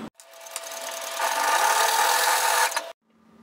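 A sewing machine stitches a seam on a flutter-sleeve top, a rapid mechanical whirr that speeds up and holds for about three seconds before stopping abruptly, close and alone.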